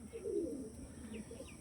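Malbai and Andhra pigeons coo in a low, soft, repeated murmur, with a few faint higher chirps over steady background hiss.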